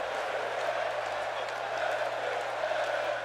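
Crowd noise in a WWE 2K16 wrestling video game, a steady dense roar of chanting for Fandango that carries on throughout without a break.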